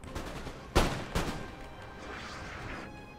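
Artillery fire in Napoleon Total War, two sharp, loud cannon blasts close together, each trailing into a rumbling decay, over faint distant battle noise.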